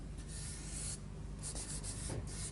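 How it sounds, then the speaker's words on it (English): Fingers rub pastel into paper in soft, scratchy strokes, close and quiet, with a few brighter swipes among them. "That'll rub in with fingers."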